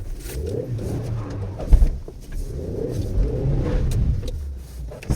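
Engine of a 2017 manual-transmission Chevrolet Spark with 131,000 km on it, running steadily with a low idle rumble and a brief revving swell near the middle, close by.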